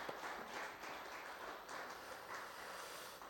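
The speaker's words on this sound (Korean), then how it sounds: "오늘 찬양하신 분들이 다시 한번 우리 격려의 박수 좀 한번 해드리겠습니다." A church congregation at a Friday prayer service claps for the worship singers, a brief, faint, even patter of applause heard from a distance.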